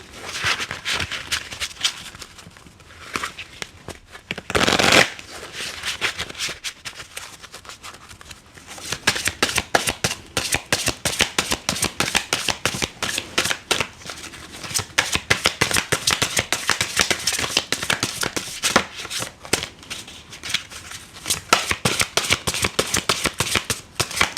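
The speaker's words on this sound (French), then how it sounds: "on va continuer le tirage avec l'oracle des fleurs nocturnes" Oracle cards being shuffled by hand for a card reading, a steady run of fast riffling and flicking that carries on close and fairly loud for the whole stretch, with one brief louder burst near the start and no voices.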